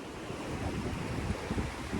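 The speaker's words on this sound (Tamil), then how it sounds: "பார்த்தீங்களா காற்று எப்படி அடிக்குதாண்டு" Strong wind at the seashore in Sri Lanka roaring across the microphone with heavy rumbling gusts, mixed with the wash of surf nearby.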